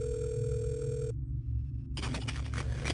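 A telephone ringing on an emergency 911 call, a steady electronic tone that cuts off into a brief quiet stretch before another ring-like tone starts, heard over a constant low hum on the line.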